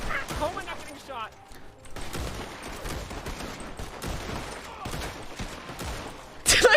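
Bursts of gunfire crackle through a RedM western roleplay game scene, rapid volleys and scattered shots, with a voice speaking over the action and a loud burst at the end.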